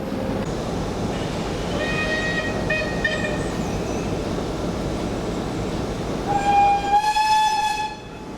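A heritage railway train on the Spa Valley Railway rumbles past steadily, then sounds its horn loudly near the end, a sustained multi-tone blast over the rolling noise.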